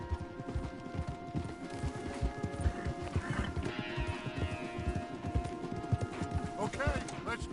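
Horses' hooves clip-clop steadily at a walk along a wooded trail in Red Dead Redemption 2, a dense, continuous patter with occasional thumps and faint tack noise, and no talk over it.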